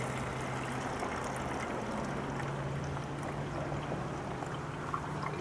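A homemade tomato leaf concoction is poured through sackcloth in a steady, continuous trickling stream that stays close and even throughout.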